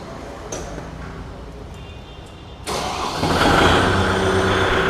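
A Kubota MU5502 4WD tractor engine cranks and catches, then settles into a steady, fairly quiet idle after a short stretch of low background noise.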